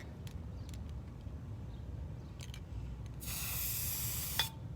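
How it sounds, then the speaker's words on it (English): Spray paint hisses from an aerosol can as a pattern is sprayed onto an iPhone, a steady burst of about a second and a half near the end after quieter background noise. "I'm just taking my spray paint and creating the pattern that I want"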